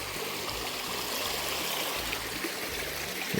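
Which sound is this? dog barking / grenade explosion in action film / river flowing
river flowing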